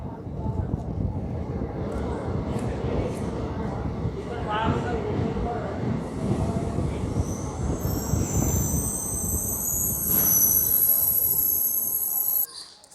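At Siddipet railway station a train rumbles close by, then its wheels break into a long high-pitched squeal that builds over the final seconds before cutting off, with voices talking over it.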